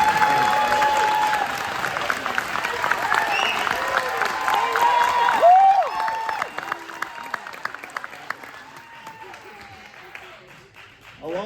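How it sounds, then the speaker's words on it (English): Audience clapping at a church or ministry gathering, a steady wash of applause filling the first half, then thinning into scattered claps with some voices underneath as it fades. "You get more applause than I do, Caleb."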